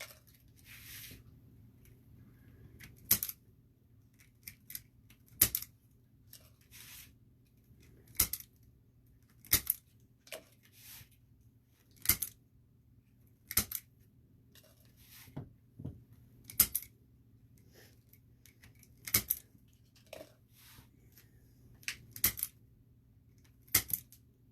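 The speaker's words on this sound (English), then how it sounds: "we're going to cut these zip ties" Zip ties on a spring mesh wreath are snipped one by one, giving crisp isolated clicks every second or two against a faint steady hum, with no talking.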